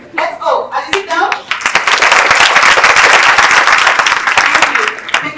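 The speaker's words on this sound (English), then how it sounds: "a minute of clapping. And as you clap, remember to smile." An audience at an IEEE conference session breaks into loud, sustained applause after a few brief voices, with dense clapping close by that swells and holds steady.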